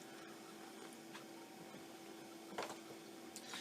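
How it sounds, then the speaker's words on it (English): A CNC mill runs in a workshop with motors not yet tuned, giving a faint, steady mechanical whine and hum with a few soft clicks near the end. "we do have the CNC mill running."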